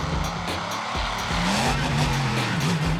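Raminator monster truck, a loud close engine roar with rising and wavering revs and gritty tire noise, continuous over three seconds with no talk.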